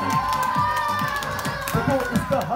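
Audience at a children's birthday magic show clapping in a steady, close burst of applause, mixed with crowd voices and some children calling out throughout.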